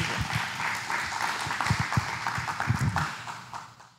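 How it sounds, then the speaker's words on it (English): An audience at a coaches' night out event applauds, steady mid-distance clapping that swells and then fades away toward the end, with no speech over it. "So I'll give her a round of applause for that."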